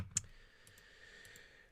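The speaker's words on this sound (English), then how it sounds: "I'm going to hit the Tab key on my keyboard" One sharp key press on a computer keyboard, the Tab key, clicks near the start over a faint quiet room, followed by a few softer ticks.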